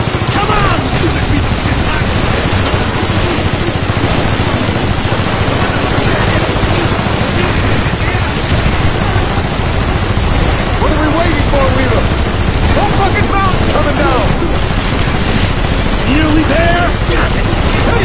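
A vehicle-mounted machine gun firing in a video game battle, a loud, continuous barrage of rapid gunfire with engine rumble beneath, running nonstop throughout.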